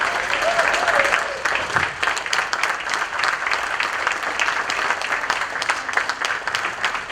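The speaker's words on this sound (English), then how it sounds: "May we kindly stand and applaud him" A standing audience at a Rotary Club conference applauds a keynote speaker, dense sustained clapping from many people filling the room at an even level, with faint voices mixed in underneath.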